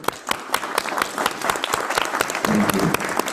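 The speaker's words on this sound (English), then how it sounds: "Please, round of applause for Joe." An audience at a public workshop on a proposed Roosevelt Boulevard subway applauds a panelist steadily for a few seconds, with sharp individual claps standing out from the dense, even clapping.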